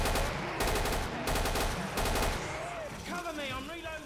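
Rapid automatic gunfire bursts loud and close in the co-op shooter Killing Floor, with short pauses between volleys and a brief lull near the end.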